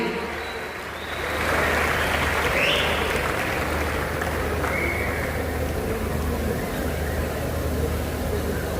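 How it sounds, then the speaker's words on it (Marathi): A large audience in Satara gives sustained applause for Marathi stage actor Prashant Damle, president of the Akhil Bharatiya Natya Parishad, at an honouring ceremony. The clapping swells after a second and stays as a loud, even roar. "मला वाटत नाही टाळ्या थांबल्या पाहिजेत"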